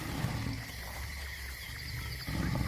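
A lion in the African wild gives low, rumbling roars, deep and steady with a heavier surge at the end, heard at moderate distance with no talking.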